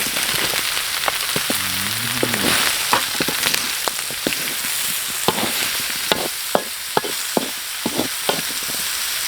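Giant sponge gourd stir-frying with pork in a pot over an outdoor fire, with a steady sizzle and frequent clacking scrapes of a utensil stirring against the pot, no voices.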